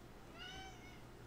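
A pet cat gives one soft, rising-and-falling meow, quiet and close, with nothing else around it.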